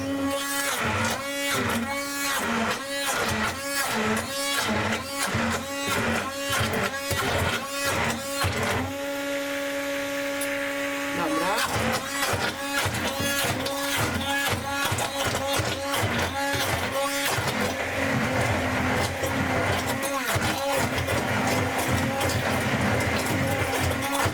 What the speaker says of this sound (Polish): I sobie teraz to blendujemy